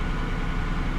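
A 2003 Lincoln Town Car Cartier limousine engine idles with a steady, low, even rumble, close and continuous with no speech.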